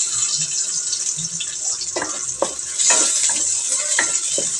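Garlic and onion, added after ginger, sauté in hot oil in a pan for mussel soup, with a loud, continuous sizzle and spatula stirring scrapes close up, and no talk.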